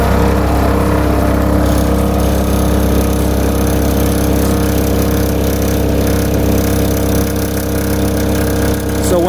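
A 2019 Gehl RT215 tracked skid steer loader engine runs loud and close, a steady diesel drone with constant rumble throughout and no talk.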